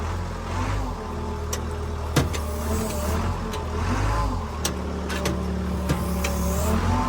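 A heavy-duty forklift drives forward in gear, its engine a steady, loud low rumble throughout with a few sharp clanks and knocks over the running motor.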